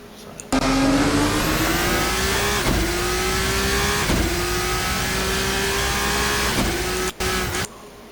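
A car engine revs and pulls steadily higher in pitch, loud and close, holding through several seconds with brief dips between gear changes.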